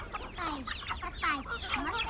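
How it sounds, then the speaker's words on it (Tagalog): Backyard chickens cluck and chatter busily while they are fed, with many overlapping calls close by. Faint background sounds run underneath. "si Jameson ngayon yung ating tagapakain ng ating mga manok"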